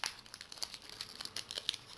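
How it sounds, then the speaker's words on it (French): A Yu-Gi-Oh! booster pack's foil wrapper crinkles and tears open up close, a quick flurry of sharp crackles over about two seconds. "Je vais complètement déchiqueter ce putain de booster"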